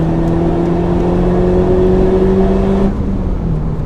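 Honda Civic Type R accelerating on a short speed run, a steady loud engine drone climbing slightly in pitch before dropping off near the end, heard from inside with no talk.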